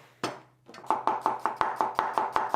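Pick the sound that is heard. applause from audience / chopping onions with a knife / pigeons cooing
chopping onions with a knife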